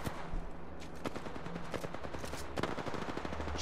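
Rapid automatic gunfire in a video game, dense overlapping shots rattling continuously for a few seconds with a few sharper cracks standing out, loud and close.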